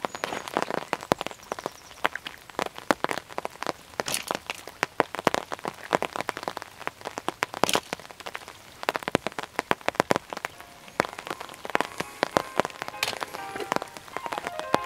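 Rain falling on a water surface at a carp fishing spot, a dense patter of close, crisp drops with irregular louder splashes throughout, heard alone with no talking.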